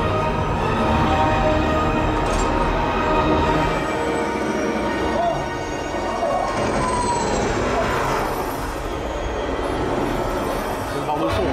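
At the Paris Audio Video Show 2025, a soundbar plays a loud cinematic demo that fills the room with rumbling, train-like roar and siren-like swells, with people's voices audible over the playback.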